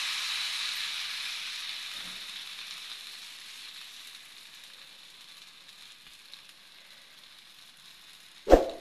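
Masala rice roti dough cooks on an oiled dosa pan, giving a soft steady sizzling hiss that slowly fades, then a single sharp knock near the end.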